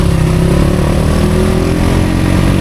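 A motorcycle engine hums loudly and steadily during a ride to Kaybiang Tunnel, close up with a constant drone and no voices.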